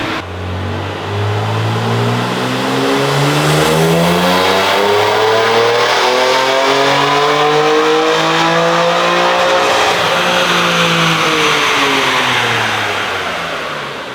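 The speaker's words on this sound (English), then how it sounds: "We're getting ready to run the car again and see if we can beat the OTS number" A tuned BMW G82 M4 Competition xDrive with the S58 engine makes a loud, close run, its engine revving and climbing in pitch for several seconds, then easing back down, with no voices.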